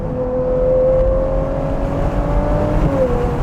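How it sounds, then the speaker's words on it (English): A Ferrari 812 GTS, a convertible with an 800-horsepower V12, accelerates with a loud, smooth exhaust howl that climbs steadily in pitch, close and sustained throughout without a break. "the exhaust sound is a little different from the regular 812"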